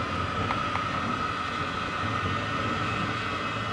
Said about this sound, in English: the blower adds the needed air we need to accelerate the starting of the fire